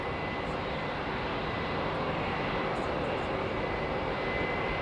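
A fixed-wing jet airliner at London Heathrow Airport gives a steady, loud engine roar that carries for five seconds with no pause, no one speaking over it.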